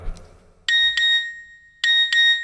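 An incoming SMS notification chimes on a mobile phone: a bright two-note electronic tone that plays twice, each pair clear and close against near silence.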